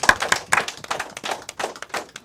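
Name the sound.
applause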